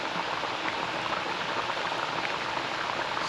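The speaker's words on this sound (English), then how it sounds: "Now we're going to fry this for" Pressed green plantain slices frying in oil for a Jamaican dish, giving a dense, even bubbling hiss that holds steady throughout and sits close to the listener with no voices.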